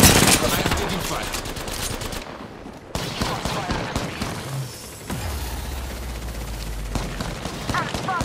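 Incoming enemy gunfire in the video game Apex Legends: bursts of rapid automatic shots clatter loudly across the whole stretch, with brief pauses, amid game effects and a low hum.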